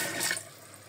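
Water drains through a newly fitted sink drain, a brief gurgling wash that starts a little louder and quickly thins to a soft trickle.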